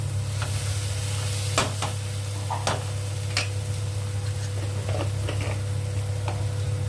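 Masala roasting in oil that has begun to separate, with a low steady sizzle under a constant background hum and a few sharp scrapes and clicks of a spoon against the pan, close and continuous.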